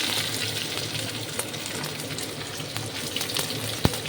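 Chopped onion frying in oil with cumin and bay leaf, a dense, even sizzle close by with a few soft stirring clicks and one sharp knock near the end, with no voices.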